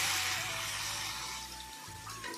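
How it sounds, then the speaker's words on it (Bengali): Water is poured into a cooking pan in a home kitchen, a continuous bright splashing rush that starts loud and eases slightly over a couple of seconds. "জল দিয়ে দিচ্ছি"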